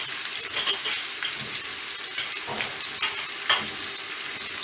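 Onion sizzles in a pan while it is stirred for a paalak paneer curry, a close, even crackle with soft scraping strokes of the spoon and no voices.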